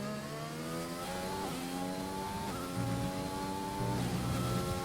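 A Williams race car in a racing video game runs a qualifying lap at the Hungary circuit, its engine whining loudly and steadily with rising revs and several clear upshifts, alone without talk.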